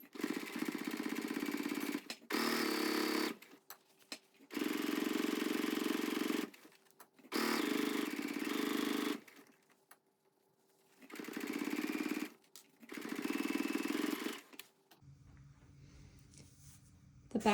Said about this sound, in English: I'm going to use my sewing machine instead of my serger